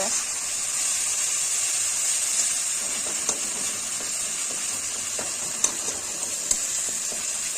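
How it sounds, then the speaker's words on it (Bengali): Hot water trickled over well-fried spice paste for Bengali fish curry gives a steady, close steamy hiss with a few small sharp pops and crackles. "মশলাটা সুন্দরভাবে কষানো হয়ে গেছে হালকা হালকা করে জল ফিটিয়ে দিচ্ছি"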